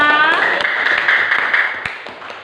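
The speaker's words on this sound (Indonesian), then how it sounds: "Tepuk tangan untuk kita semua" A classroom of students claps together on cue from the teacher, a steady burst of hand claps that runs the whole moment, close and fairly loud.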